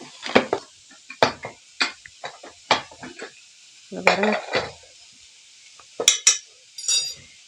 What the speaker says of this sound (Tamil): இந்த குக்கரை ஓப்பன் பண்ணி நான் காணிக்கேன்